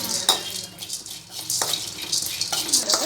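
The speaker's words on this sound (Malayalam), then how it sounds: "ഇനി നമുക്ക് പൊരികടല ഒന്ന് ചെറുതായി ചൂടാക്കി എടുക്കണം" Roasted gram being warmed and stirred in a pan for pokkavada, giving a close scraping and rattling of dry chickpeas against metal with scattered clinks of a spoon over a faint sizzle.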